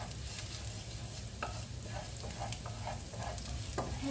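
Garlic sizzling and frying in a hot pan while a steak dinner with fries is prepared, a steady close crackle with scattered soft scrapes and taps of stirring, no voices.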